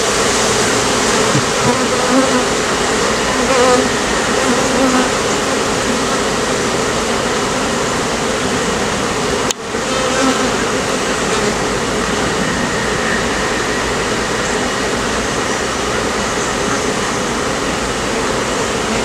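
A dense swarm of honeybees drones continuously during a swarm rescue near a hive, loud and close, a steady unbroken buzz with no talking.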